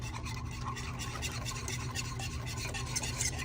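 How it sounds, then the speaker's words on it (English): A spoon stirs a FECO gummy mixture in a continuous, steady scraping and rubbing rhythm, close and moderately loud, with a low hum running underneath and no one speaking. "And now we stir."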